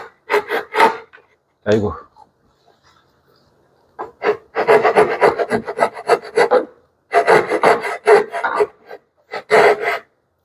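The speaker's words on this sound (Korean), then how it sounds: "너무 지금 칼선에 근접해 가지고 자르고 있습니다" A handsaw cuts a dovetail joint in wood clamped in a vise, producing bursts of rapid rasping strokes separated by pauses, close and fairly loud, with a brief spoken exclamation between them.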